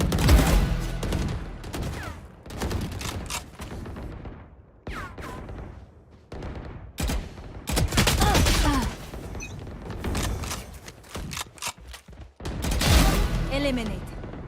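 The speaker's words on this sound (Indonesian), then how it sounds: "Beneran nembak." Gunfire in the video game Valorant comes as bursts of rapid shots and booms, loud and irregular, with quieter gaps between volleys and people talking over parts of it.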